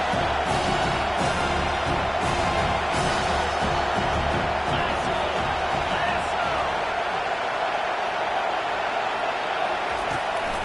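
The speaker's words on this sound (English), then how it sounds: "Decibels rising as the crowd gets behind this defense on 3rd down." Stadium crowd roar in an NCAA football video game on third down, a dense sustained wall of cheering and noise that stays loud for about ten seconds, with an announcer's voice over it.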